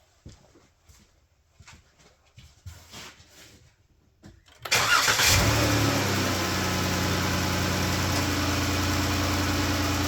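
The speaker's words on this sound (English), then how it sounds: "Has a little bit of top engine noise." A 2014 Chrysler 3.6L Pentastar engine starts up and settles into a steady idle, with a faint rhythmic top-end lifter and rocker arm ticking running through the loud, even hum.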